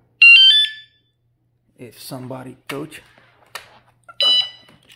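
A Maike KK10S electric scooter's anti-theft alarm gives a loud, shrill multi-tone electronic chirp up close, someone talks after it, and then the chirp sounds once more near the end.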